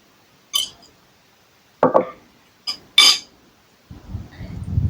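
A plate of stir-fried water spinach is set down with a few short clatters and knocks, one sharper contact near the middle, followed by a low rumbling shuffle at the end, all close and fairly quiet.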